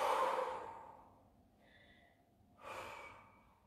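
A deep breath drawn in through the nose and let out through the lips during a boot camp workout, heard as two clear airy breaths, a long inhale then a second breath after a faint pause, fairly close with no talk.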